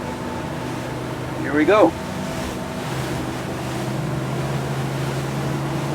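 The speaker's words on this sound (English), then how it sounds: "let me slowly pick up some speed and take her up to plane" An Axopar 29 CCX with a V10 outboard builds speed toward planing at sea, its engine a steady drone under rushing wind and water, with a brief spoken phrase early on.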